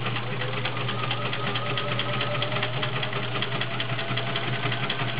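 A vintage Kenmore 1560 convertible sewing machine stitches through denim with a steady, fast mechanical whir and rhythmic needle clatter, running continuously and loud without pause.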